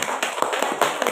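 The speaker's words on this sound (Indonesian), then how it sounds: "Tepuk tangan untuk kita semua." Applause from a group at a school gathering, a brief burst of scattered hand claps, moderately near and fairly soft, with no voices.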